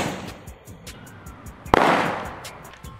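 A plastic water bottle, sealed after being filled with water and a gas-producing mixture, bursts under pressure with one sharp, loud bang near the middle, followed by a brief decaying rush against faint background noise.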